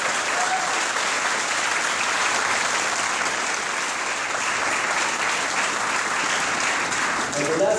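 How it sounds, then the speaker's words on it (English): Thick, sustained applause from a large audience honoring students at an evening graduation-style event, a steady roar of clapping throughout. "one more applause for those students right here."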